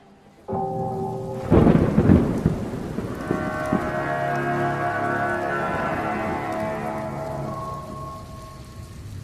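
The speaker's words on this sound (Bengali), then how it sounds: "বাইরে ঘন অন্ধকার, উথাল ঝড় সহ প্রবল বৃষ্টি।" A loud thunderclap rumbles out over steady, heavy rain, which keeps pouring in a dense continuous hiss after the thunder fades.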